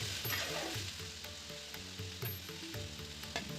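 Chopped tomatoes, ginger and garlic cloves sauté in a pan with a bright, busy sizzle and occasional stirring clatter, close and steady, with no one talking.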